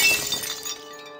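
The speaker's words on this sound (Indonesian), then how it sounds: "ternyata suara itu berasal dari piring yang terlepas dari pegangan istrinya ketika dicuci" A plate slips from hands while being washed, drops and shatters in one sharp crash of breaking crockery, followed by a brief ringing tail of scattering fragments that fades into quiet.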